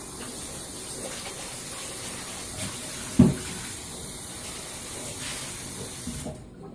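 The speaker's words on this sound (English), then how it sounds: "Rinse it out real quick." Water sprays steadily from a tap while a Rubbermaid container is rinsed out, a continuous close hiss with a brief knock partway through before the flow cuts off near the end.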